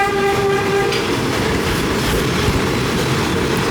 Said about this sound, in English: I guess the driver wanted to give us lots of horns.